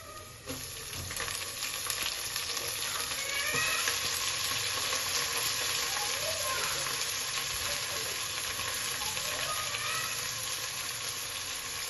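Chopped fenugreek leaves fry in a pan for a methi matar pulav, making a loud, continuous close-up sizzle with faint stirring underneath and no speech.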